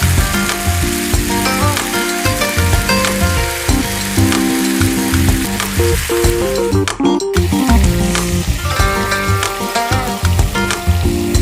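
Chicken and vegetable rolls fry in hot oil until golden and crispy, giving a loud, steady sizzle with crackling pops that continues without a break and has no voices over it.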